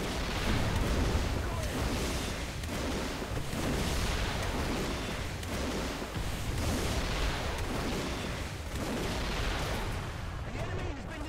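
Rocket fire and explosions in a tank video game, heavy booming blasts in a dense, continuous barrage that rises and falls in waves, loud and close throughout.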